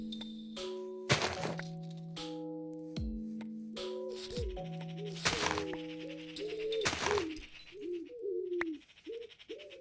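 Birds in a modded Minecraft game give repeated cooing and chirping calls, joined by a few sharp cracks and thunks, with no talking.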